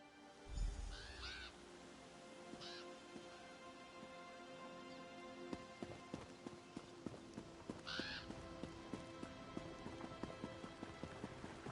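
A crow caws in a video game, its short calls standing out twice early on and once more later above a busy game soundscape with steady ticking, clopping beats.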